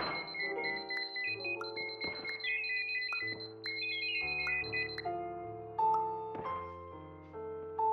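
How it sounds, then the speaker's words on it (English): Alarm clock in the video game Superliminal, playing a repeating electronic melody of bright tones over a layered musical background, steady and fairly quiet throughout. "Stop beeping."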